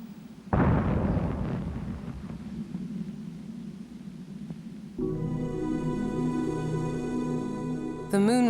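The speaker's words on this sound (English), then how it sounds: "The fourth rocket also blew up." A Soviet rocket explodes at the Baikonur Cosmodrome with a sudden heavy boom that rolls into a sustained roaring rumble. A tonal musical score then rises over it.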